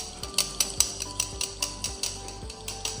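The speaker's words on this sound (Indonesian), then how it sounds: "untuk kopinya ini kita aduk sampai dia tercampur rata" A spoon stirs coffee in a cup or bowl, clinking rhythmically against the side in quick, evenly spaced metallic taps, close and clear with no talk.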